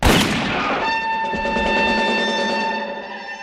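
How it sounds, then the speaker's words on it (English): A film blaster gunshot from the Star Wars scene where Han Solo shoots Greedo: one loud sharp blast at the start that rings into a long sustained tonal decay. "the scene where Han Solo shoots Greedo"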